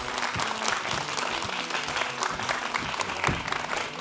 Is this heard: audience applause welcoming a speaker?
yes